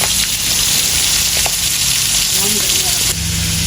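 Pangas fish fries in a pan with a steady, dense sizzle that holds through the whole stretch, with a low hum and faint voices underneath.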